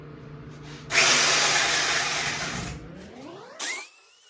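A chainsaw roars to life and cuts steadily through an ash log for about two seconds, then winds down, followed by a brief second burst.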